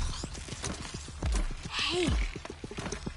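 Hooves of a horse in the video game Horizon Zero Dawn clop in a quick, uneven pattern close by, with a brief whinny-like call partway through.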